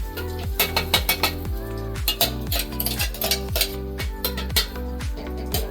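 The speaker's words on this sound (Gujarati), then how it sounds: "એને હલાવી લેશું" A spoon stirs crushed sesame chikki mixture with a little ghee in a pan, giving repeated rhythmic metallic scrapes and clinks against the pan in close, fairly loud strokes with no voice over them.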